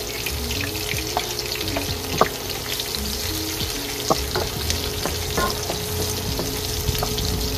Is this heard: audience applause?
no